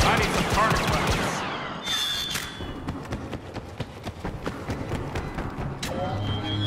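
Blaster fire in Star Wars Battlefront, scattered sharp shots and thuds in an irregular burst during combat, with a voice talking over parts of it.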